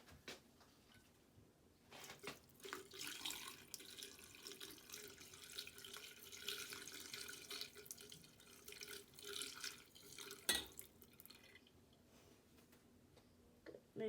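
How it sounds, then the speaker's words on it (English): Hot water runs and trickles steadily down a drain, with faint clinks and ticks and a sharp knock near the end. "First, we're going to pour hot water down the drain."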